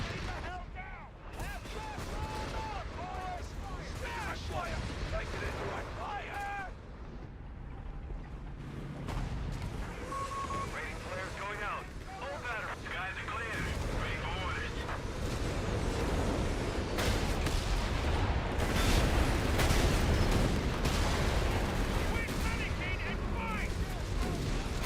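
Whiz bang artillery fire and scattered gunshots from the video game Company of Heroes thud and crack at mid distance amid game noise, with someone talking over them throughout.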